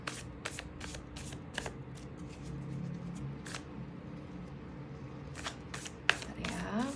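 Tarot cards are shuffled by hand up close during a reading, giving a run of quick riffling bursts and soft slaps, with a sharper snap near the end and no talking.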